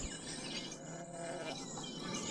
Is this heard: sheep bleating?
yes